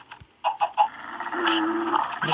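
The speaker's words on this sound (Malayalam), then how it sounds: "തവളയുടെ ശബ്ദം." Brief croaks from a frog in the Minecraft video game, a few short blips followed by a longer low croak, close and clear.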